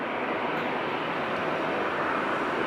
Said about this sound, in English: We're also going to get the United 787 Dreamliner in the taxi.